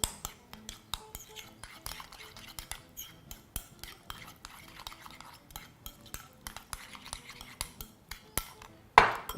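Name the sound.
mixing chicken gyro salad in a bowl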